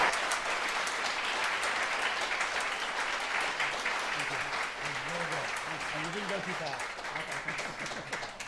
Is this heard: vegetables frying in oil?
no